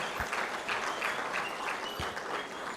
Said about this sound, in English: Another round of applause to the Honourable Minister.